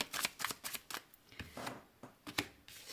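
Tarot cards are shuffled for a reading, a quick run of crisp, close riffling flicks and soft taps in irregular bursts, fairly quiet and with no talk.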